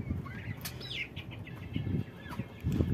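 Turkey and chickens in a rooftop coop, with soft clucks and brief chirpy calls scattered over low rustling and shuffling, fairly close and moderately quiet.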